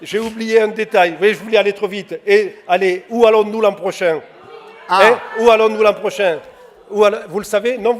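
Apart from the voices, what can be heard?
No distinct noise like a dog, phone or traffic.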